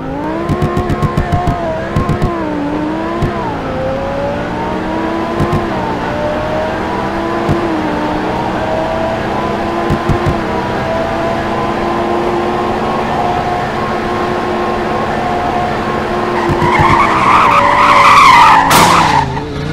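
An Audi R8 V10+ Spyder in Roblox roars through a long, loud acceleration with rising engine tones and gear shifts, then tires squeal sharply under hard braking near the end.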